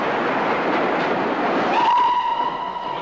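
A passenger train runs along the rails with a steady broadband rumble and rattle, then a sustained whistle-like tone sounds clearly over the running noise in the second half.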